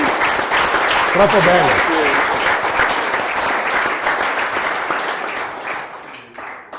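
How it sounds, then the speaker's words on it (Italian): A studio audience at a televised event in Villa Lagarina, Trentino, breaks into loud, sustained applause that fades toward the end, while a voice speaks briefly over it. "la faccio congedare con un grande applauso"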